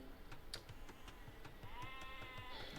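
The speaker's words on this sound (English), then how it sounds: "You got to kill the sheep under the town center." Sheep bleat in a real-time strategy game, a quiet wavering bleat rising out of soft game ambience with light ticking clicks scattered throughout.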